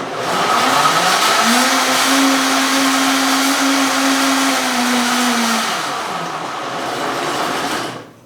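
A loud blender roars continuously as it blends ice and milk, its motor pitch holding steady then dipping near the end as the thick mixture churns.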